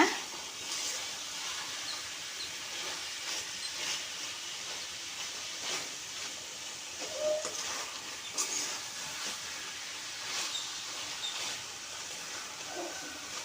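Chicken sautéing in a pan for a restaurant-style chicken gravy, a soft, continuous hiss and sizzle with faint stirring scrapes, fairly quiet and close.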